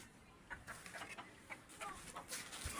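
An Aseel rooster clucking softly while being held, faint short clucks scattered through handling noise and rustling, fairly quiet and close.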